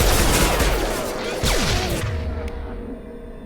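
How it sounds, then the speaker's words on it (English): Gunfire in the video game Mass Effect 2 rattles in dense, rapid bursts of loud shots that overlap and carry on for several seconds. "Shoot them before they take out your shield."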